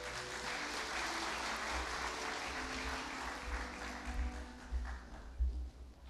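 An audience at a 2014 university graduation ceremony in a hall applauds, a dense, sustained patter of many hands clapping that thins and grows uneven toward the end, with no speech over it.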